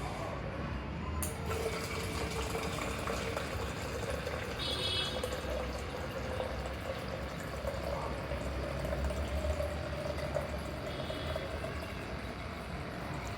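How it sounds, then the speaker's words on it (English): An Arduino-controlled water pump fills a tank, with continuous splashing and pouring water close by and a faint steady pump hum underneath, running throughout. "there is no water in the tank, so the system directly activates the water pump."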